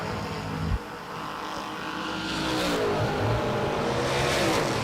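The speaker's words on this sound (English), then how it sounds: "Braskett's car, not that fun to watch, but it's great to listen to." A drag racing car engine revs, droning steadily and climbing in pitch, heard from a distance with a brief thump near the start.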